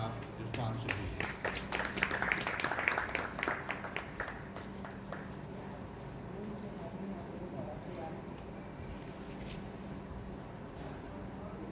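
Audience at an Urdu poetry tribute gathering breaks into a burst of clapping that swells over the first few seconds, then fades under someone speaking into a microphone.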